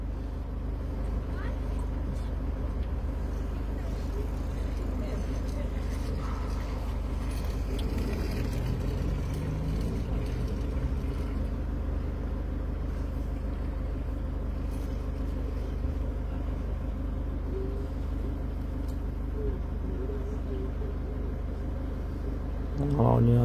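Car engine held at steady high revs, around 2000 to 2300 rpm, during a particulate filter cleaning, a continuous low droning rumble close by that stays even throughout, with a brief louder swell at the end.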